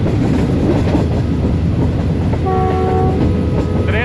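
Two Tezgam express trains cross each other, a loud, continuous rumble of passing rail cars with a train horn sounding near the end, no voices.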